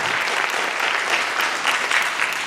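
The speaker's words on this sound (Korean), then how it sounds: "교수님을 박수로 모시겠습니다" A lecture audience at a city academy talk in Korea welcomes a professor with steady, dense applause that fills the whole stretch at an even level.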